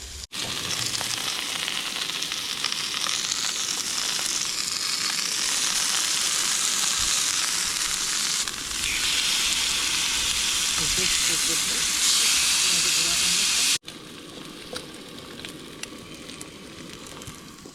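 Steaks frying in a pan, a loud steady sizzle and hiss close up that drops off sharply near the end, with quieter crackling after.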